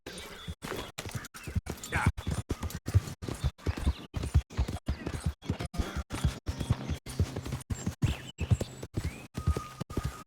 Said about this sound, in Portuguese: Esse não é meu cavalo. Let's go, boy.